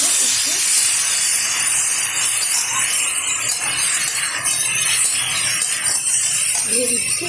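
Papaya and cucumber pieces are stirred in hot oil with turmeric in a pan for a Bengali shukto, giving a steady close sizzle and hiss with faint scraping throughout.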